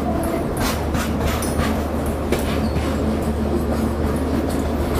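A distant train on an Indian railway line, a Rajdhani service, rumbles with a steady low drone and faint clatter of wagons, continuous throughout with no talk.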